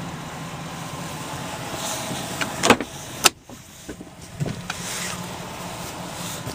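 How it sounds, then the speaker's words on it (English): Electric sunroof on a Chevy Silverado 1500 pickup moving with a steady motor whir inside the quiet cab, broken by a few sharp clicks and a firm clunk as it reaches its stop. "Sunroof."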